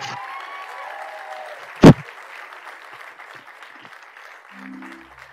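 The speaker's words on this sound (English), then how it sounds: "You get a nice little bit of applause there." A short burst of applause and cheering in a VR MOBA game, with chiming electronic tones before it and a single sharp loud hit partway through.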